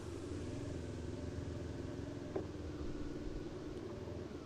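A 1999 Honda CB 500 motorcycle idles and creeps along in first gear through a full-lock U-turn on a riding-school track, a steady low engine rumble, close and moderately quiet, with no talking.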